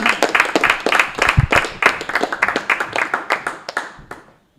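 Audience clapping after a comedian's stand-up set, a dense burst of many hands that thins out and fades to a few scattered claps at the end, close and lively.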